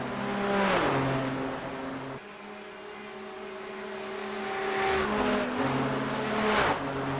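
GTP race cars roar past on the Charlotte Motor Speedway road course, loud engines rising and falling as several pass in turn, with revving and gear changes between the passes.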